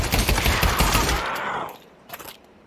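Dense burst of rapid gunfire in a VR zombie shooter against Nazi zombies, loud and continuous for under two seconds, then cutting off into quiet with a brief faint rattle near the end.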